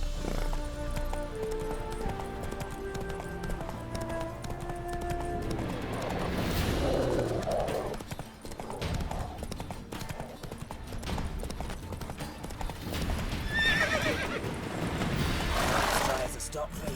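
Roach, a horse in The Witcher 3, neighs and clip-clops on the ground amid game music and a background voice, its whinny and hoof steps rising briefly over the mix.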